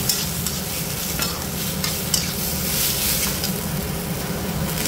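Chana dal fries in hot oil with salt and turmeric, a loud, steady sizzle with crackling bursts and the scrape of a spoon stirring through it.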